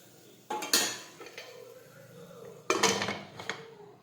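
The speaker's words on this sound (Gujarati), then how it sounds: "હવે આપણે કુકરનું ઢાંકણ છે તે બંધ કરી દઈશું." A pressure cooker lid is set on and closed over a pot of ridge gourd curry, giving two sharp metallic clanks with rattling, one early and one late, with quieter clinks between.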